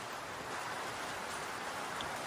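Steady rain falling outdoors, a continuous dense patter and hiss with no breaks.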